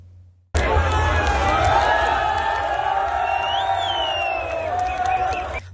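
A massive crowd fills a Myanmar hot air balloon festival at night with a loud, steady roar of voices and cheers after a brief quiet start, its excited babble close and continuous.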